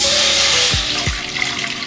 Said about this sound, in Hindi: कढ़ाई धीरे आमे पानी दबा।